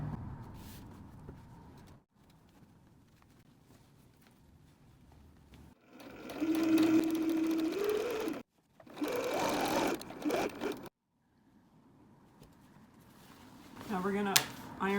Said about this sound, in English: we're gonna sew this together with a 1/4 inch seam allowance, that top edge